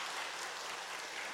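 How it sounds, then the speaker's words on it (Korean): A church congregation at a Sunday worship service applauds the choir with a dense, even wash of clapping that stays steady through a brief moment. "자, 그러면 우리 격려하는 박수를 한 번 더 해줄까요?"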